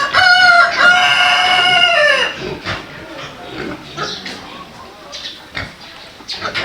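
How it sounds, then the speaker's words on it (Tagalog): Crossbreed hens and chickens on a farm: a loud, close rooster crow rings out first, followed by scattered soft clucks and fowl chatter at a lower level. "Ito yung ating mga crossbreed na ating mga inahin babae."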